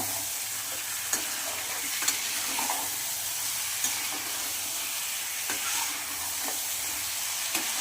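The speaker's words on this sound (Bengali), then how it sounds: "আমি কষাতে লাগছি ভালো করে কষাতে হবে চার পাঁচবার তাহলে মাংসটা খুব সুস্বাদু হবে খেতে দেশি মুরগির" Desi chicken pieces, legs among them, stir-fried in a pan, a steady close sizzle and hiss with scattered clicks of a spoon scraping and turning the meat, no voices.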